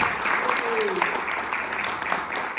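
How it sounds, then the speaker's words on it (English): Audience applause for a woman named Grace after a magic trick at an entertainer's show for a community group, steady crowd clapping throughout with voices murmuring beneath. "Ladies and gentlemen, a round of applause for Grace."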